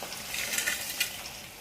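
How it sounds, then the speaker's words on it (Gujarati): Sliced potato chips sizzle in hot oil, a close, bright crackling hiss with small bursts of popping as the wafers are stirred, alone without speech. "હવે આપણે જે આ વેફર છે એ તળવા માટે એડ કરશું"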